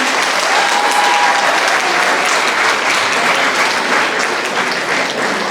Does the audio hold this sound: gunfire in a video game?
no